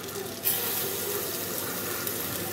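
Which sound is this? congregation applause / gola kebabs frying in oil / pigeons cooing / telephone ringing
gola kebabs frying in oil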